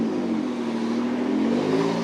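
A 1955 Ford F100 restomod truck accelerates hard on concrete, its engine a loud, steady rising roar throughout the short burst.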